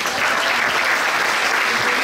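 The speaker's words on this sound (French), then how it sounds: "M. Lefebvre, on peut l'applaudir" An audience applauds Martin Lefebvre of ABB's Québec engineering department at a regional Expo Science finale, a dense, steady wash of clapping filling the whole moment.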